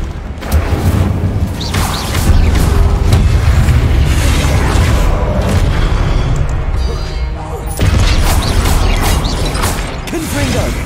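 Incendio fire spell cast in Hogwarts Legacy: loud, roaring bursts with booming low rumble and crackling mechanical texture, sustained across the stretch with a couple of sharper surges, dense and close.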